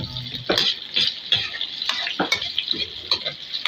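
Pancit with vegetables and onion is stirred in a pan with rhythmic scraping and clinking of a utensil over a steady sizzle, close-up with no talk.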